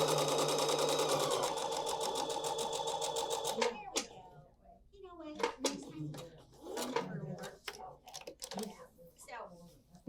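A sewing machine stitches across a quilt block in a steady, close, rapid whir for several seconds, then stops as soft handling noises and quiet talking follow.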